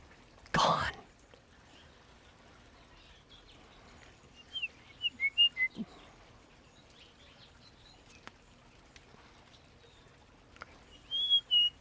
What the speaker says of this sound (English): That's a lesser goldfinch. House finch. I'm hearing young chipping sparrows.